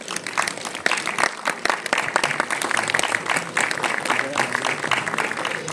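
Audience applause at an award ceremony held for a Mohammed Rafi birth-centenary event, irregular claps of varying strength rising and falling, fairly close, with a busy crowd texture underneath.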